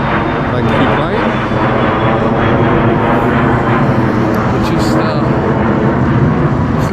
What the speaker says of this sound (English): We've got a jet plane in the sky.